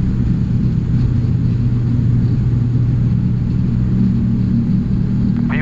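ATR 72 turboprop engines at takeoff power, a loud, steady, unbroken drone and rumble heard from inside the aircraft with no letup.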